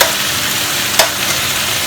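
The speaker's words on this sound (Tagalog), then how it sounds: "Haluin po natin mabuti ito." Zucchini, carrots and beans sizzling loudly in a pan while being stirred, a dense continuous fry with one brief scrape of the utensil, close up and without speech.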